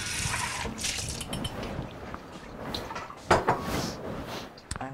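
Water running and splashing as a bowl is rinsed in a kitchen, a steady wash of liquid with a few clinks of the dish and a sharper knock partway through.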